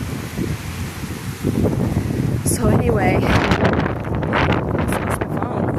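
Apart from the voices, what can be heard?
wind gust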